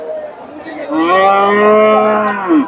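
Cattle at a cattle market, including Friesian cross bulls, let out one long, loud moo with a clear harmonic tone, swelling and holding for about two seconds before falling off.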